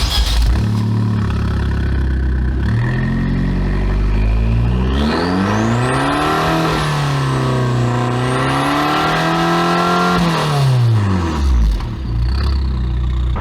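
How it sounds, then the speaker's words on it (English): 2022 Abarth 595 Competizione exhaust, heard close and loud as the engine idles, then revs up in a long rising and falling sweep with a raspy growl before dropping back to a burbling idle. "now I'll just show you how this exhaust sounds"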